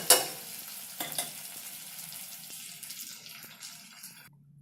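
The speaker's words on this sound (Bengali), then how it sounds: "আলুটা আমি ঢাকা দিয়ে ভেজে নেব।" Potatoes fry in a covered pan over low heat, giving a soft, steady sizzle with light stirring scrapes near the start that fade into a quiet, even crackle.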